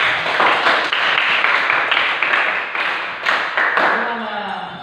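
Students in a classroom clap for a group of classmates, a loud, close burst of many hands with a slightly pulsing, patterned rhythm that eases off toward the end, with faint voices near the close.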